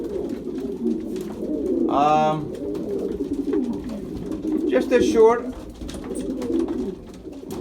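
Pigeons coo in two short bursts, one early and one later, over a steady low hum, with a person speaking briefly in between.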